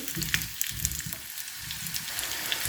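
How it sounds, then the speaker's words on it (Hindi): Vegetables including radish frying in oil for an instant winter vegetable pickle, a steady hiss with soft crackle and occasional pops, close and continuous, with no talking. "तो यहाँ पर अब ऑयल के अंदर मैं डाल दूँगी वेजिटेबल सारी।"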